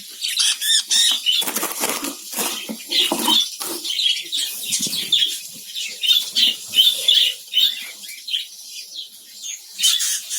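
Budgerigars flap their wings in bursts as birds are caught in a colony, a rapid, close fluttering and scuffling mixed with sharp chirps and squawks throughout.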